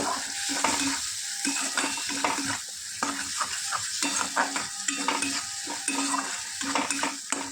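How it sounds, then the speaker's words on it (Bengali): Poppy seed and cashew paste sautés in a pan, a soft steady sizzle under repeated scraping strokes of a spoon against the metal, no voices. "এবার পোস্ত আর কাজুর পেস্টটা দিয়ে দিলাম। এবার একটু কষিয়ে নেব।"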